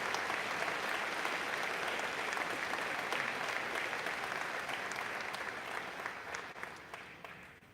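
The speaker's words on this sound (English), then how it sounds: "if we could have another round of applause for this section of grade 11 prize winners" Audience at a school prize day ceremony applauds the grade 11 prize winners with sustained, dense clapping that holds steady and then tapers off near the end.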